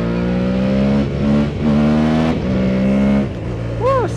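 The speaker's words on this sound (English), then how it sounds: "I do like the noise of the Aprilia." An Aprilia Tuareg 660 motorcycle engine revs hard in second gear during a wheelie, a loud, close, sustained roar with rising and falling pitch as the throttle is worked, ending in a quick sweep.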